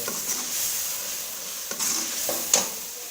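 Keema masala with added salt is stirred and fried in a pan with tomatoes, a soft continuous sizzle punctuated by a few distinct scraping strokes of the spoon.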